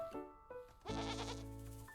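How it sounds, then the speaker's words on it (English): A llama-like animal in a video game gives a single drawn-out bleat, clear and close, after a few short tonal blips, no talk. "They're like a mix between a llama and a sheep."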